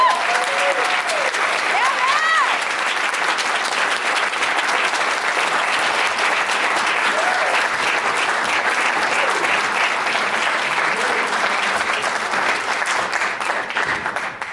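Sustained loud applause from an audience at a Black History Month panel for the panelists, steady clapping throughout with cheers and whoops rising above it near the start.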